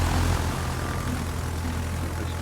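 Propeller bombers droning in World of Warships, a steady, dense engine roar of several aircraft that stays level and close throughout, with no voices heard.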